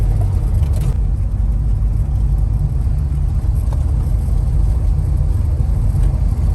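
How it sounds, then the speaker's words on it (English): A restored 1955 FJ Holden Special sedan, a small-capacity car, rumbles steadily along the road from inside the cabin. The engine drone stays loud and constant with no talk. "Goes pretty well for a car of not a high capacity."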